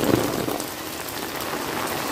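Steady rain falls and patters on surfaces around a small balcony of a hillside property in Uttarakhand, a dense, even hiss that stays close and continuous with no talk.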